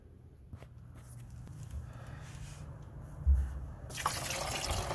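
Fuel drains from the tank of a Mercedes W115 in a faint, steady liquid trickle, with a few soft knocks and a brighter splashing rush near the end.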